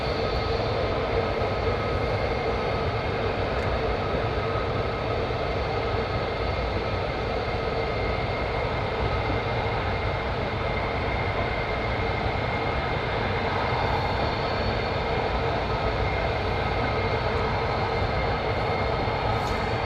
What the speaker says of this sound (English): there's 15s coming down now, I think. Can't see them yet, but I think I can hear them.